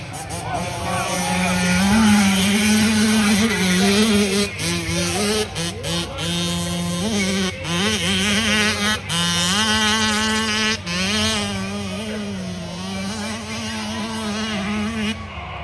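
A hillclimb motorcycle revs hard up the Devil's Staircase slope at a national championship, its high buzzing engine wailing and rising and falling in pitch over sustained loud throttle while an announcer talks over it.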